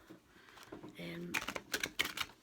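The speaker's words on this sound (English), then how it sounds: "I'm playing ball again, these cards, trying to shuffle them quickly." Tarot cards are shuffled quickly, producing a rapid run of crisp, close papery riffles and clicks with a person talking around them.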